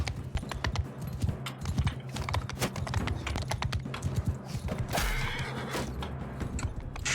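Horse hooves clip-clopping in Mount & Blade II: Bannerlord, rapid irregular hoofbeats mixed with a whinny and clattering battle sounds, fairly close and steady.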